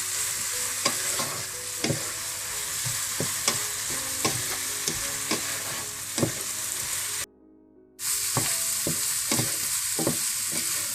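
Vegetables stir-fry over high heat for Chinese rice, giving a loud, steady sizzle broken by repeated scraping strokes of the spatula. The sound cuts out briefly near the end, then resumes. No one speaks.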